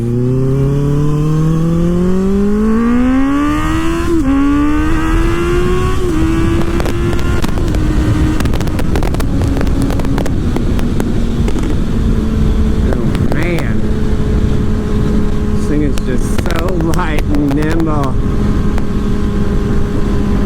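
A 2024 Kawasaki Ninja ZX-6R sport bike set to full power with no traction control, its engine climbing steeply through the revs under hard acceleration, then holding a steady loud drone with wind rush and brief shifts, close and continuous throughout.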